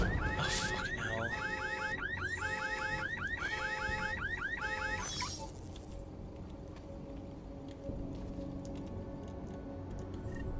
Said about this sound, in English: All these stupid alarms going off